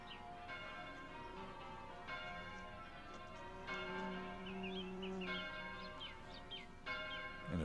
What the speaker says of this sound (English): Speaking of bells.